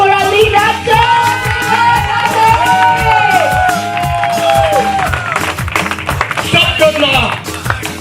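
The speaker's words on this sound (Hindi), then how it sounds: "एक बार जोरदार तालियां होनी चाहिए" Audience at a film premiere breaks into loud applause and cheering, dense clapping across the whole span while a voice speaks over a loud musical backing.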